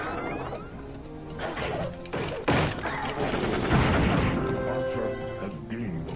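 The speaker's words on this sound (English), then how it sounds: "There's my turbo attack, that's what I just done." Turbo attack in Gauntlet Legends on the N64, a sharp crashing impact followed by a swelling burst of smashing, booming effects mixed with game music.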